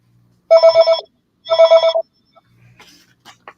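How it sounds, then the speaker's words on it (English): Home landline telephone ringing in two electronic trill bursts about a second apart, loud and close, followed by faint rustling. "That is the disadvantage of continuing to have a landline, is that you can get phone calls"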